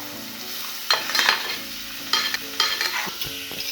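Peanuts tossed into a pan of onion and ginger-garlic paste for Khandeshi khichdi, a close steady sizzle with a few sharp stirring scrapes and bursts, loud and without any voices.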